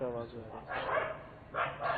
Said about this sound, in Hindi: हमें तो पता नहीं था कि इतने कुत्ते इधर मौजूद हैं